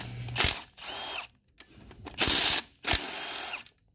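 Ratchet wrench backing out 10 mm bolts on the pump of a Ford 6R80 automatic transmission during a teardown, heard as three separate bursts of rapid clicking, close and fairly loud, with short pauses between.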